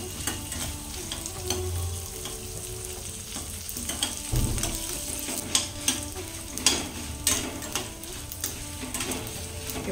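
Byadgi chillies frying in a pan with a steady sizzle and crackle, stirred now and then with a few sharp scraping clicks of a utensil against the pan near the end.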